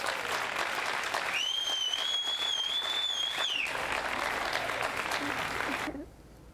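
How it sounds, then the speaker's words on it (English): Steady, loud applause from a crowd for teachers, continuous for several seconds with a whistle cutting through, then dropping away abruptly near the end. "So our teachers, big round of applause really for our teachers."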